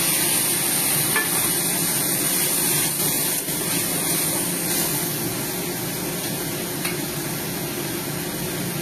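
Spice paste tipped into browned onions in a hot pan sets off a loud, steady sizzle and hiss that carries on throughout without pause, with faint scraping from stirring.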